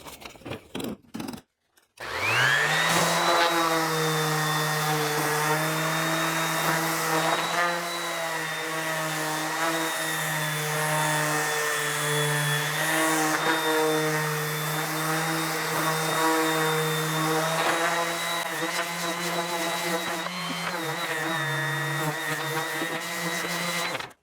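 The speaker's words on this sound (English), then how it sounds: "I'm going to use an orbital sander. This is a DeWalt random orbital sander." A DeWalt random orbital sander fitted with 150 grit sandpaper starts up after a brief clatter and runs steadily with a loud, even whine and hum on wood, alone without talk.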